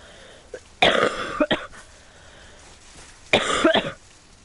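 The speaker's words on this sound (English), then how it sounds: "Sorry, that cough, it just comes on, like, all of a sudden." A person gives two separate bursts of harsh coughing, close and loud, the first a cluster of several hacks followed by a short one, the second another brief run after a quiet pause.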